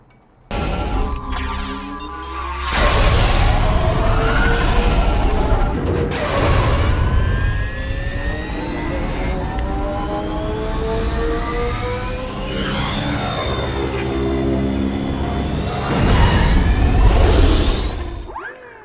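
A BHR E-Race electric dirt bike motor starts up and revs repeatedly, its whine climbing and falling in pitch over a steady rumble, loud and close.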